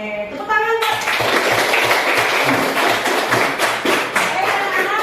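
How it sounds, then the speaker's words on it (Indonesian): A classroom of children claps together in a dense, steady burst of applause, loud and close, right after a voice finishes speaking. "Oke, tepuk tangan."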